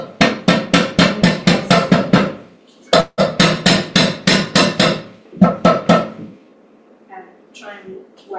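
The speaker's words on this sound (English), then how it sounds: "I might use a hammer. Because I might want a much more of a defined feather edge." Hammer striking a leather shoe stiffener to thin it to a feather edge, close and loud, in quick bursts of rapid repeated blows separated by brief pauses, with a few softer sounds at the end.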